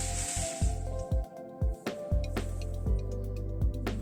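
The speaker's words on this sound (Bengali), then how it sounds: "একটু বাটিটা ধুয়ে জল দিয়ে দিচ্ছি।" Water poured into a hot pan of poppy seed and garlic paste for a fish curry, giving wet hissing splashes and sizzles in several short bursts over a steady kitchen hum.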